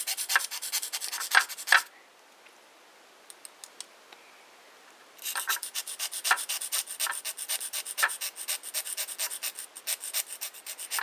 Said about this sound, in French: vous prenez votre pasta sec, votre lame, vous mettez au-dessus et vous grattez comme ça